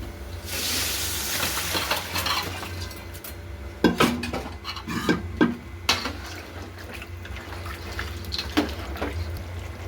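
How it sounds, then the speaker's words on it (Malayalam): Cooked tapioca being mixed into a masala of spices and curry leaves in a pan for tapioca biriyani, with scraping, clinking utensil strikes and wet stirring sounds, alone and fairly close. "മസാലയും കപ്പയുമായിട്ട് മിക്സ് ചെയ്തുകൊണ്ടിരിക്കുകയാണ്."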